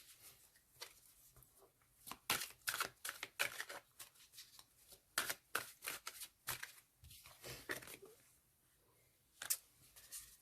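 Tarot cards are handled and laid out on a table, a quiet series of close, soft slaps and shuffling flicks in irregular clusters.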